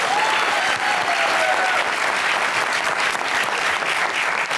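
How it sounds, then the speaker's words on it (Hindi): A studio audience at a Pakistani TV comedy show breaks into loud, sustained applause, a dense wash of clapping that holds evenly throughout with no talk over it. "तालियां"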